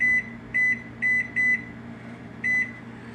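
A microwave oven gives five clear, high-pitched electronic beeps, four in a quick even series and one more after a pause, over a faint room hum.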